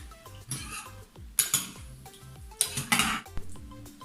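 A metal spoon scrapes and clinks against a pan as sauce with added water is stirred, several short knocks and rattles close up with brief watery swishes between them.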